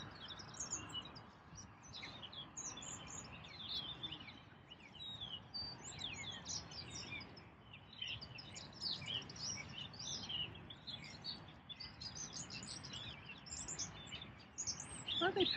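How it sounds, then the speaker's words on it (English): Birds calling in a garden in early winter, with seagulls and starlings among them, a busy stream of chirps and squeaky calls from a flock, fairly distant and continuous over a low rumble. "there's some seagulls in there, but there's also like, I think even said they were like starlings"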